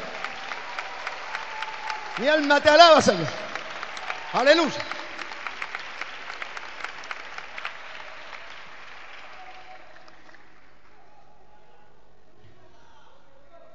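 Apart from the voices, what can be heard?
congregation applause in church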